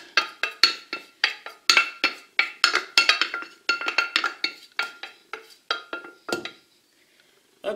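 A spoon stirs rice pudding in a saucepan, scraping and clinking against the metal in a brisk, regular rhythm of close strokes that stop near the end.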